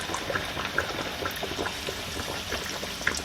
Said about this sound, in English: And now we're going to deep fry them. It's time to fry the tuna bake.